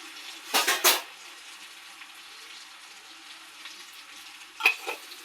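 Leftover rotli being stir-fried with turmeric and salt in a pan, a faint steady sizzle with two brief bursts of spoon scraping and clattering against the pan near the start and again near the end, no talk.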